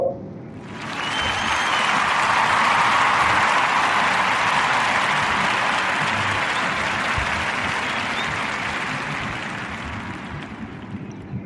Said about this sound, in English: So she deserves a warm round of applause.